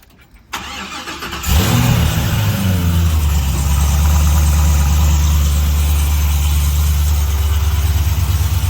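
A squarebody truck with a 600 wheel horsepower engine and 4L80 transmission cranks and fires up after a brief hush, then settles into a loud, steady, deep rumbling idle close by.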